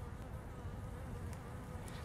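Honey bees at a hive during an inspection produce a soft, continuous buzzing drone that stays steady and close, with no voices over it.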